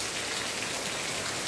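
Heavy rain pours down in a dense, constant hiss of countless drops hitting the ground, loud and unbroken with no voices.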